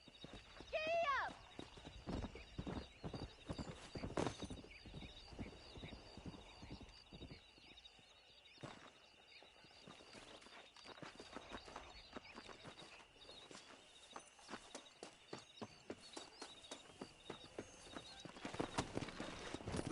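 Horse hooves clip-clopping steadily while riding in the video game Red Dead Redemption, with an occasional neigh, a galloping rhythm kept up throughout at moderate level, and a voice briefly heard early.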